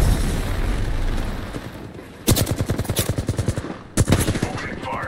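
Automatic gunfire in the Apex Legends battle royale game rattles out in a fast, loud burst of evenly spaced shots, followed by a second shorter burst, after a quieter stretch of game ambience.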